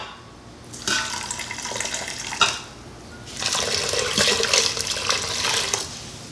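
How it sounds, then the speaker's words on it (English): Vegetable stock, about four cups, pours into an Instant Pot in two long splashing streams separated by a short pause, loud and close, with no talking. "I'm putting in 900 milligrams of vegetable stock, or 4 cups"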